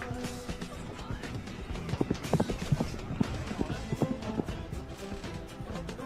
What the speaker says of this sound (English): Fucking horse running sounds, dude. Just galloping in the distance.